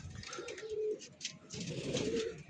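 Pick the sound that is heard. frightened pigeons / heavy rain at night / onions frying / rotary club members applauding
frightened pigeons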